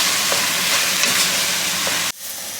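Sweet potatoes fry in a pan with a loud, steady hiss and sizzle that holds for two seconds and then cuts off abruptly to a quieter crackle.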